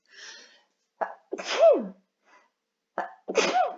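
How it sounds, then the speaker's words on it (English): Two close sneezes, each preceded by a sharp inhaling catch, loud and near, with short pauses between them. "I'm going to sneeze."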